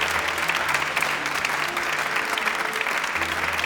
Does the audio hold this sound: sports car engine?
no